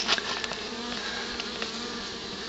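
Honey bees buzz around a trap-out cone at a Gatlinburg cabin in a dense, continuous drone, with individual bees passing close to the microphone now and then and no voices.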